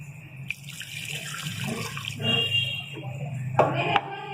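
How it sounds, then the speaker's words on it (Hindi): A glass of water is poured into a pan of fried potato mixture seasoned with vinegar while cooking aloo ki bhujia. The water splashes close and fairly loud for a few seconds, with a sharper slosh near the end. "अब इसके अंदर हम डालेंगे पानी"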